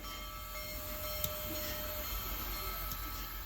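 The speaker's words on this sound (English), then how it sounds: "it's pretty rare to see steam locomotives operating in the Ozarks" Union Pacific Big Boy 4014, a heritage steam locomotive, running in the Ozarks, heard faintly as a steady broad hiss and low rumble with a few soft clanks, distant and continuous.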